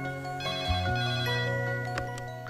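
A phone ringtone plays a loud, bright electronic melody of sustained tones that shift pitch partway through, ringing continuously up close.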